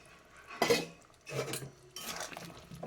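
Pieces of fried snakehead fish drop into a pot of boiled potatoes, with three bursts of clattering metal and scraping against the cookware, close up.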